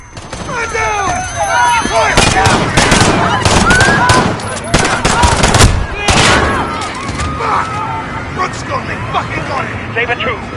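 Gunfire crackles in a police video game, rapid bursts of shots over shouting voices and radio chatter, loud and dense for several seconds before easing into scattered pops.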